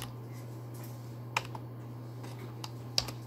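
Typing on a computer keyboard, with a sparse series of soft, close key clicks, a couple of sharper taps among them, over a low steady hum, with no talking.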